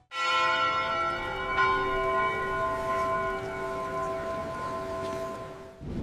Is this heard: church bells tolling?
yes